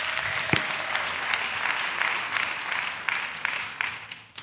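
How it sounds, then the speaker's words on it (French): Applause from an audience at a church missionaries' retreat in Côte d'Ivoire, a steady crowd clapping that runs throughout, with a sharp louder clap early on before it fades near the end. "Acclamation à Jésus."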